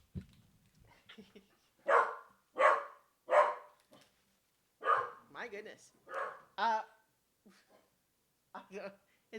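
A dog barks in repeated bursts from indoors behind a slightly open window, some barks loud and others shorter and fainter, with a man's brief exclamation between them.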